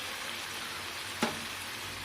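Biryani masala with salt sautéed in a pan: a soft, even frying hiss throughout, with a single sharp clink of a utensil midway, close by and without talk.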